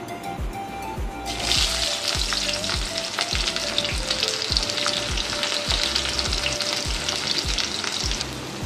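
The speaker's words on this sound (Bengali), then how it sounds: "আমি এবার পেঁয়াজগুলো এতে ছেড়ে দিচ্ছি।" Onions hit hot oil in a pan and burst into a loud, steady sizzle that carries on continuously, with faint scraping and stirring underneath.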